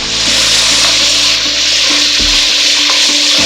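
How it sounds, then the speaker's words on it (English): Finely chopped onion and ginger sizzle loudly in a spoonful of olive oil over high heat, a steady close hiss with occasional scraping knocks from stirring. "I'm gonna use 1 spoon of olive oil to fry my onions and ginger."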